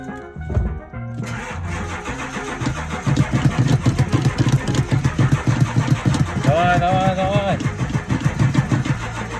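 A pickup truck's diesel engine is cranked after refuelling with diesel: a starter grind, then the engine catches and idles with a rough, pulsing rumble, while people talk over it.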